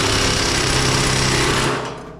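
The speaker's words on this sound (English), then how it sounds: "we're gonna hook our little Tahitian speed wrench up back here" Pneumatic speed wrench hammering steadily on a roller shaft at the back of an LG dryer, a loud continuous rattling buzz that fades near the end.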